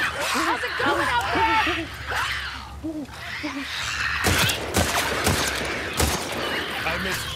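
Video game gunfire from The Last of Us Part II: bursts of loud, sharp shots in the latter half, after a stretch of a voice talking over the game.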